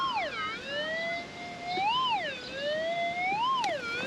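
Garrett Axiom pulse metal detector in pipe clay giving a continuous warbling signal tone that sweeps up and down in pitch in slow, siren-like waves, clear and steady over faint background noise.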